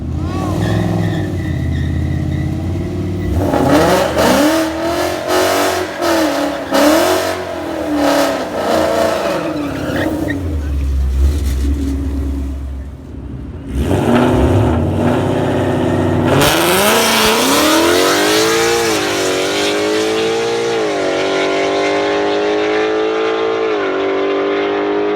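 Drag racing car on a track makes a full pass, its engine revving hard and climbing in pitch through repeated gear changes, with a slight transmission slip in third gear, then a long sustained high-speed roar that gradually winds down.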